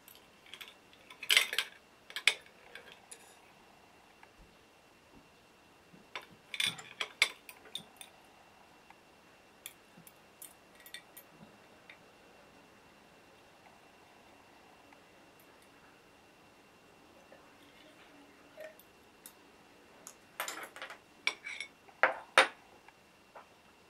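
Glass test tubes clink and tap in short bursts while potassium permanganate and oxalic acid solutions are mixed, faint scattered knocks separated by quiet stretches, with a busier cluster of clinks toward the end.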